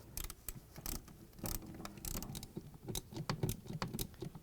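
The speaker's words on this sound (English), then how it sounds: "now I'm gonna use this the ratchet, and we're going to tighten up" Ratchet clicking close up as it tightens screws on the condenser fan panel of a Frigidaire/Electrolux refrigerator, with quick irregular metallic ticks and clunks over a few seconds.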